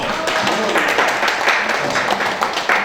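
Audience applause at a Christian election campaign worship service in Busan, continuous dense clapping lasting the full stretch, loud and close.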